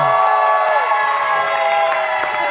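A game show studio audience keeps up a continuous wash of cheering and clapping for a contestant, with a few voices calling out and no clear talk on top.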